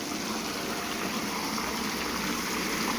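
Water pouring steadily through a shower head into a catfish tank, a continuous close hissing splash with no breaks or variation.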